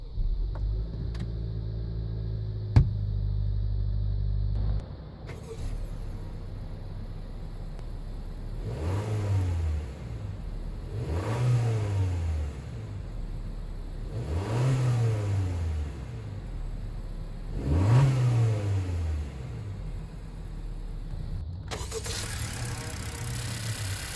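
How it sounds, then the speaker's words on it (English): A 2016 Honda Civic Touring sits idling after being started, then revs up four times in an even rhythm, each rise and fall clear and close, with no talking. "with my foot on the brake, I'll go ahead and start the engine"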